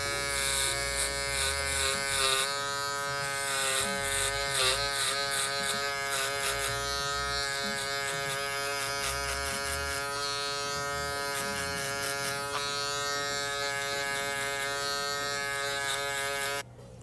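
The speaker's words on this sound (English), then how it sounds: "So now I'm about to use my shaver to remove whatever is left, make this part nice and smooth." Electric shaver buzzing steadily close up as it smooths a hard part line in a haircut, a continuous whine with small shifts in pitch as it moves across the head, cutting off at the end.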